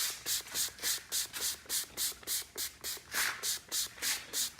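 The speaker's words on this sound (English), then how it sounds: "spray it all across the front bumper here." Rapid, regular hissing bursts of a trigger spray bottle spraying bug remover onto a 2016 Ford Fusion's front bumper, about a dozen quick pumps in steady rhythm, close by.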